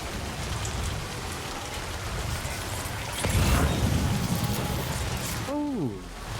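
Steady rain pours across the landscape in Death Stranding 2, a dense continuous hiss that swells louder midway, with a brief rising synthetic tone near the end.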